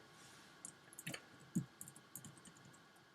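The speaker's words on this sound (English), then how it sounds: "use your arrow keys if you want to be a bit more precise, and move it into position." Arrow keys are tapped on a computer keyboard while an image is positioned in Photoshop: a handful of quick, light, close clicks in an uneven rhythm over faint room noise.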